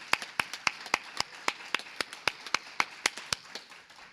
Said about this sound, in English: a round of applause for everyone,